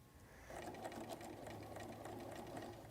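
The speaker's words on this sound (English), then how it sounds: "continue stitching forward to the cardboard circle and back tack again" A sewing machine stitches forward through a felt pocket toward a cardboard circle. It starts after a brief pause and then runs in a steady, fast mechanical whir with rapid needle ticks, close by and alone.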